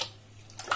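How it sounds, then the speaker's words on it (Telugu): Water poured into a pot of Rayalaseema-style lentil rasam in a home kitchen: a short, soft splash that rises toward the end, with no talk over it. "ఇది నేను కొద్దిగా నీళ్ళు వేస్తా"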